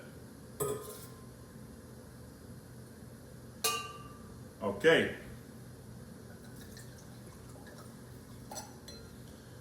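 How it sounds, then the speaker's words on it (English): Merlot wine poured from a bottle into a glass, a few soft trickles and faint glassy clinks spread across the span, quiet against room tone with a brief spoken word. "I am pouring out the glass with the new wine."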